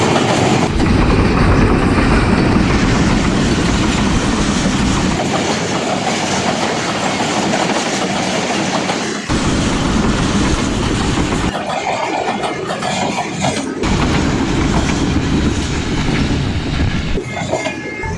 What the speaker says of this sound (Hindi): टाउन जाफर एक्सप्रेस 12:30 पे पास ऑन हो रही है तरकई रेलवे स्टेशन से।